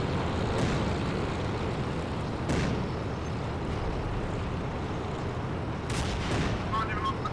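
Tank battle in Steel Fury with a T-50, rumbling engine noise and scattered cannon and gunfire booms, a few sharp reports standing out over the steady low roar.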